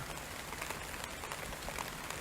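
Heavy rain falling in a Cambodian forest, a dense, even hiss of drops on leaves and ground, steady throughout and fairly distant, with no voices.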